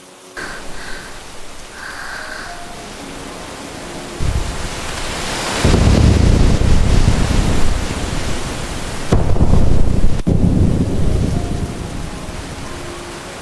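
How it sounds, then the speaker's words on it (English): An animated thunderstorm builds from a quiet room with faint voices into heavy rain, with loud rolling thunder crashing in twice, then settling back into a steady downpour. "The storm will pass."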